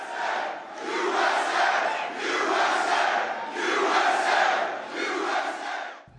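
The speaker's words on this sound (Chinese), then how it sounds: "台下的支持者大声欢呼，川普也跟着鼓掌" A large crowd of Trump supporters at a sneaker convention in Philadelphia cheers and roars loudly, the sound rising and falling in several long, powerful waves that fill the hall.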